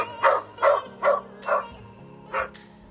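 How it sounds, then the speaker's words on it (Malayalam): A boxer dog's barking played back by a phone voice assistant: five sharp, evenly spaced barks, close and clear, with no talking. "ഇതൊരു ബോക്സർ നായയാണ്."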